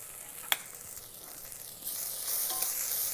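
Onion and chopped cilantro fry in an Instant Pot for a shrimp curry, giving a quiet, steady sizzle with a brief sharp click early on and the hiss growing a little louder partway through.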